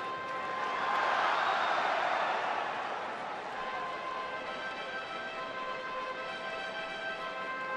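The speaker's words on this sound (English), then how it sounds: "Pretty good crowd here on a Monday evening at the corner of 20th and Blake." Baseball stadium crowd at a Colorado Rockies home game against San Francisco on a Monday evening at Coors Field: a steady, broad murmur of many voices and distant cheers filling the air, swelling slightly early then holding level.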